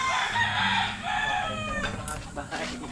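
Chickens and roosters, including a fighting cock, cluck and crow nearby at a birthday gathering, with people talking faintly in the background.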